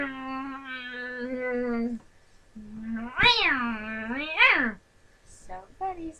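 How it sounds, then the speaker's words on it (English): A cat meows repeatedly nearby, long drawn-out cries with rising and falling pitch, separated by short pauses. "meow, meow, That is my fat cat."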